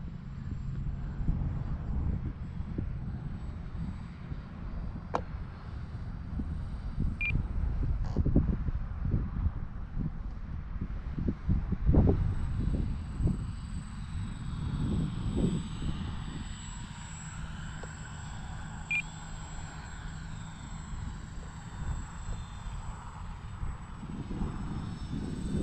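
A Dynam C-47 radio-controlled model airplane drones steadily overhead as it flies a pattern in a crosswind, its propeller hum moderate and distant, with wind buffeting the microphone.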